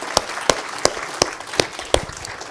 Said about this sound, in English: let's have a quick round of applause for our great and loyal sponsor, Thor Holt.